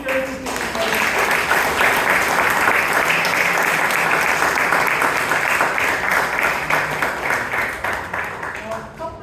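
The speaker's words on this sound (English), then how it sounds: "Can we have a big round of applause for all the speakers who came forward?" An audience at a Bangalore Toastmasters club meeting applauds its speakers, with dense, sustained clapping that fills the room for about nine seconds before tapering slightly at the end.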